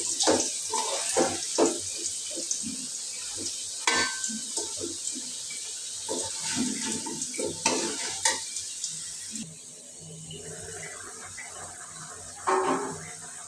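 Beef curry with fried potatoes is stirred in a pot, a spoon scraping and sloshing through the thick sizzling gravy in repeated close strokes, then a quieter bubbling pause before one more stir; nobody talks.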